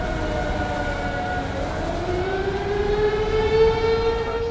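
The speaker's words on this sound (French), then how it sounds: "À nos oreilles parviennent à nouveau les timbres suraigus de sirènes hurlantes, se superposant les unes aux autres." Several wailing sirens overlap above a partly blacked-out town during a tornado-season storm, their rising and falling tones layered together, steady and moderately loud against a low background rumble.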